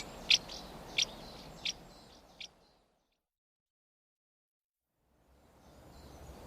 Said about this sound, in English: Go away, bird.